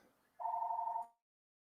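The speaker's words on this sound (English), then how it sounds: "I got a phone call coming in." A phone rings once with an incoming call, a clean steady electronic tone lasting under a second, faint and alone before falling silent.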